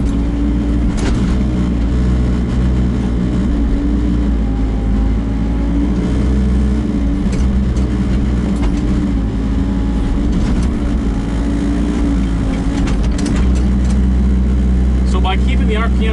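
A Kubota KX121-3 mini excavator idles at low RPM, giving a steady, loud low rumble that runs the whole time with a few brief clanks and knocks on top, and some voices partly underneath.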